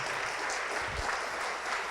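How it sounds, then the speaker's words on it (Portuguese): A church congregation claps steadily and continuously, a dense wash of applause with no pauses. "Vamos aplaudir mais."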